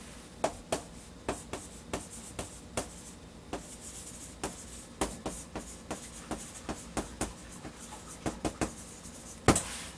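A pen writes by hand on paper in a quiet room during an English grammar lesson, making a series of short scratchy strokes and taps at an irregular pace, close and fairly soft, with no voices.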